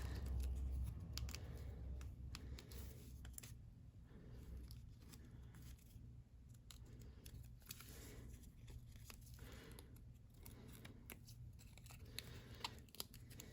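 Scissors snip through paper, trimming a vintage-fashion paper doll for a junk journal, with a run of close, crisp cuts and light paper rustling at low volume.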